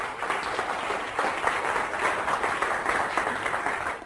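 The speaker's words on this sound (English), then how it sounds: "A round of applause, of course, please." Dense, steady applause from a seated audience, a continuous wash of many hands clapping at moderate distance with no voices standing out, holding level for several seconds.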